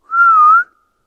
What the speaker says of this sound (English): That was a whistle back.